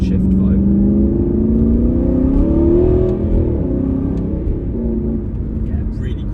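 A 2014 Aston Martin V8 Vantage N430 with the 4.7-litre V8 and SportShift II gearbox drops a gear quickly, the loud engine note rising in pitch and then easing back to a steady drone.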